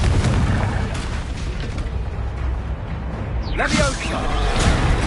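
A Confringo spell explosion in Hogwarts Legacy with a heavy, continuous booming roar. A sweeping whoosh rises partway through and is followed by more rumbling blasts.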